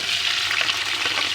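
Chopped onion dropped into hot ghee sizzles in a brief, steady, close crackling hiss for a pulao of black chickpeas and rice, with no voices.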